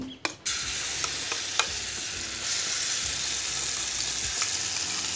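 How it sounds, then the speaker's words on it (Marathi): Ground masala paste sautés in a pan on a low flame for a white potato korma: a steady, even sizzle with a few sharp spatula knocks early on, close by and without speech. "सगळा मसाला याच्यामध्ये आपल्याला छान असा परतून घ्यायचा आहे, करपायचा नाही आहे, परतून घ्यायचा आहे।"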